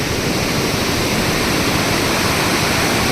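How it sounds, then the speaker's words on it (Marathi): The flooded Ghod river rushes after continuous heavy rain, a dense, loud, unbroken roar of water with no other sounds above it. "त्यामुळे घोड नदी भरून वाहते"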